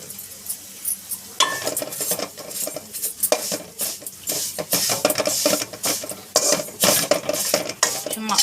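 Vermicelli roasting in a pan for Eid sheer khurma, stirred steadily with a utensil that clinks and scrapes against the metal over a light sizzle, in close repeated strokes with no talking.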